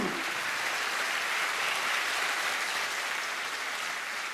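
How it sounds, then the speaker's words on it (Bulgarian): Steady applause from a large concert audience in Svishtov fills the hall, a dense continuous wash of clapping that stays loud and even throughout without any break. "Аплодисменти за Юлиана Мур!"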